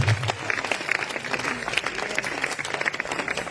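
A church congregation breaks into dense, sustained applause in acclaim of the Lord Jesus, many hands clapping steadily and close for the whole stretch, with a few voices faintly mixed in.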